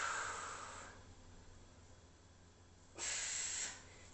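Two forceful breaths blown out during a breathing exercise, each a soft, airy hiss, the first fading within a second and the second a short burst after a quiet pause, faint and close.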